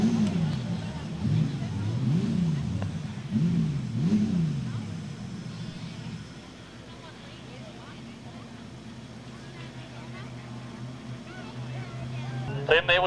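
Modified production race cars on the back straight of Maryborough Speedway, engines swelling and fading in repeated surges before settling to a distant drone, with a commentator talking throughout.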